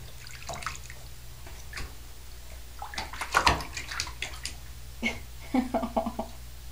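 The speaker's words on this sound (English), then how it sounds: "So we're going to start our bath." Water splashes and drips in a bathtub being readied for a puppy's bath, with scattered sloshes and sharp drips over a low background hum, close by and irregular.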